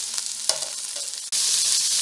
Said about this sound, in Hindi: इनको हाई फ्लेम पर फ्राई किया जा रहा है